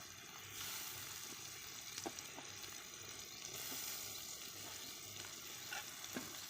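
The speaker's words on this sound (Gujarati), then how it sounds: "હવે નાખી દઈશું આપણે એમાં ટમેટાં આપણે જે ઝીણા કટિંગ કર્યા છે એ" Finely chopped tomatoes frying in a pan, a faint steady sizzle with occasional soft pops and small clinks, quiet and close throughout.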